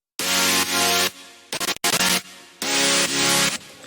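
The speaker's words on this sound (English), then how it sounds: "Just some nice chord, saw waves and random waves." A synth chord layer built from saw waves and random waves rings out in bright, thick sustained chords, broken midway by a choppy, stuttering burst before the chord returns, with no voice over it.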